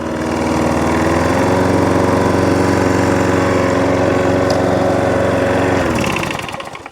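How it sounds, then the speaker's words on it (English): A repaired Hayter 41 lawnmower with power drive and electric start, running loud and close at a steady drone for several seconds before cutting out and winding down at the end. "That's that little lawnmower now all up and running."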